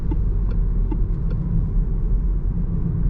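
A Peugeot 208 facelift with a 100 hp 48V hybrid engine accelerates gently, heard from inside the car as a steady low engine and road rumble with no talking.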